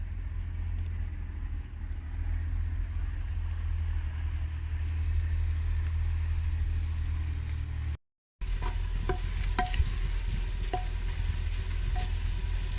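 Onions browning in a hot pot (handi) while being stirred, for a chicken haleem: a steady broadband sizzle runs throughout, briefly cut out near the end, followed by scattered scraping clinks of the spoon against the pot.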